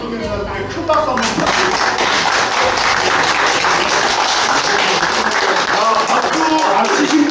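An audience on a university field trip to Yeosu–Suncheon 10.19 historical sites claps loudly and steadily, a dense, continuous round of applause that lasts throughout.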